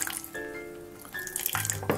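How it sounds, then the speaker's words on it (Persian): Water trickles steadily from a tap or jug into a saucepan of sugar being made into caramel for panna cotta, a continuous close pour with a short break and no talking. "بعد اینو با کمترین مقدار آب فقط به اندازه‌ای که خیس بشه بهش آب اضافه"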